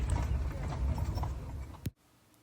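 A horse pulling a carriage clip-clops at a steady trot, its hoofbeats close and clear with a faint voice underneath, before the sound cuts off abruptly near the end.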